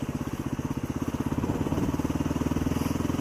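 A motorcycle rides through Alaskan woods near an old gold rush cabin, its engine close and loud with a steady pulsing thrum that rises slightly as it picks up speed.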